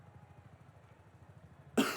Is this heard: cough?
yes